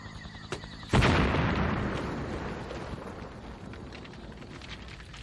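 A sudden booming explosion down a tunnel in a film, one loud blast with a long rumbling decay that fades over several seconds.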